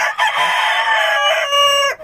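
A rooster crows loudly and close by in one long sustained call, ending abruptly, with no talk over it.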